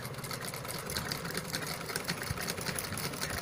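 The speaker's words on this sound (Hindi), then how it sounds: "यह मशीन कपड़े को उछालने लगी" Sewing machine stitching cloth with loosened thread tension, a fast steady mechanical chatter running continuously and close.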